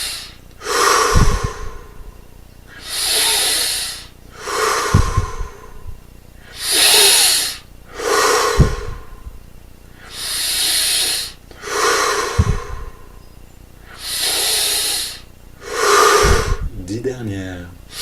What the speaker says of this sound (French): On augmente progressivement l'amplitude des respirations.